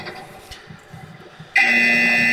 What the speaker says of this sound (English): And we get a buzzer.